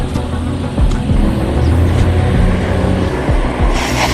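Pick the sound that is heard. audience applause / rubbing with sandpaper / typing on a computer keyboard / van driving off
van driving off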